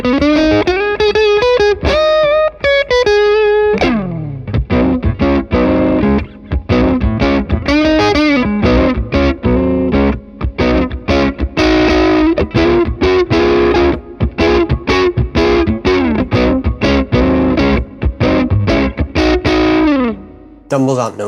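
Electric guitar through a Dumble-style overdrive pedal plays bluesy riffs and bends, a gritty, steady sound filling the whole stretch with no pauses.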